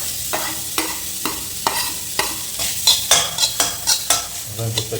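Two onions sizzle in mustard oil with cumin while a spoon scrapes and stirs the pan in regular close strokes over a steady frying hiss.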